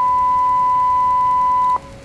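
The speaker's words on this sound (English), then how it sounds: "so that's the bleep sound" A single loud, steady censor bleep tone holds for almost two seconds, then cuts off abruptly to quiet background.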